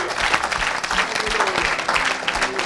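A church congregation applauds for Jesus at a French-language gospel service, dense continuous clapping from many hands, fairly loud and steady.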